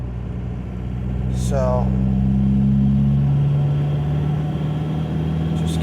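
A 1.9L TDI diesel-swapped Toyota pulls hard while towing a Dakota, its engine holding a steady low drone that swells slightly as it gains speed, with a brief spoken word over it.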